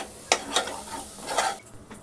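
Mint leaves and coriander are stirred and sautéed in a pan for matar pulao, with soft scraping spoon strokes over a faint sizzle, close and brief.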